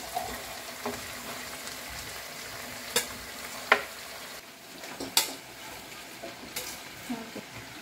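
Meat, sweet potato and vegetables stir fry in a pan for Korean spicy chicken, a continuous close sizzle broken by several sharp utensil scrapes and clanks against the pan, with a voice briefly present.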